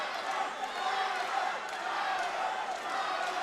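Crowd noise at a Synergy FC mixed martial arts fight roars steadily throughout, a dense continuous wash of cheering and shouting from the arena, with no clear individual voices standing out.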